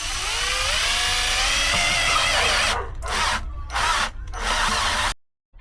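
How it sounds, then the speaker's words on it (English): A step drill bores out a hole for a switch in a 12v wiring setup, whining steadily and loudly with harmonics that shift, then cutting in and out in short bursts before stopping abruptly. "I drill these out, so I'm just using the step drill that I bought the other day"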